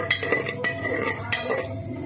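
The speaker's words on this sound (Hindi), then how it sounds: "हल्दी डालने के बाद थोड़ा सा मिक्स करेंगे हल्दी को भी ऑयल और ज़ीरे के साथ" A spoon clinks and scrapes against a pan while turmeric is mixed into hot oil with cumin seeds for a winter vegetable curry of peas, potato and carrot: several light metallic taps in quick succession, close and clear.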